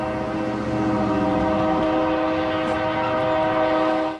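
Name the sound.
trains passing through town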